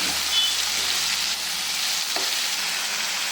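Brinjal and tomato sauté in oil with salt for a chutney, giving a steady, close sizzle and frying hiss that holds evenly throughout with a faint stir near the end.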